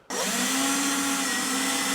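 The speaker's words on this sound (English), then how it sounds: "I will drill and put in some mounting holes" Power drill boring mounting holes into a wooden drawer unit, starting abruptly and running at a steady loud whine with a constant pitch for the whole span, close to the microphone.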